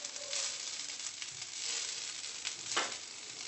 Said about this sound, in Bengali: আগুনের উপরে ভাতটা ফটফট ফটফট করে ফুটছে